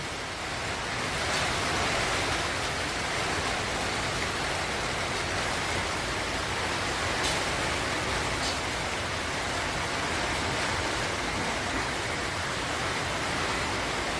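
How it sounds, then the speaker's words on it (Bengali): Heavy rain pours down over a village in a dense, unbroken hiss that stays loud and even throughout, with no voices. "বৃষ্টি কেমন প্রচণ্ড পরিমাণে বৃষ্টি হচ্ছে"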